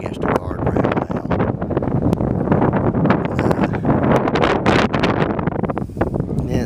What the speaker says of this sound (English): there's a wind blowing always here